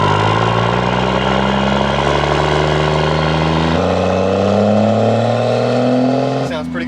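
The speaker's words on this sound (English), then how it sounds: "It has a really nice, like crisp, harmonic exhaust note." Car engine and exhaust revving with a crisp, harmonic note, loud and close, holding steady then dropping in pitch before a brief blip at the end.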